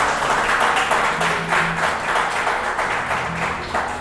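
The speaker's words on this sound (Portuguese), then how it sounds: "aplaude o Senhor." A church congregation applauds during a service, a steady crowd wash of clapping that holds evenly for several seconds and fades slightly toward the end.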